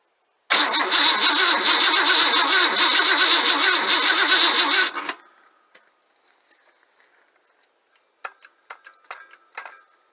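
A car engine cranks steadily for about four and a half seconds, then stops without catching, followed by a few faint clicks and taps.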